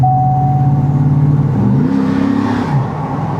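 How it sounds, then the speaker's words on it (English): Chevrolet GMT800 pickup exhaust with a MagnaFlow muffler revving loud and close, a deep steady engine note rising and falling through a couple of throttle blips, with no talking. "I'm pretty sure, if I remember right, this one has a MagnaFlow muffler on it."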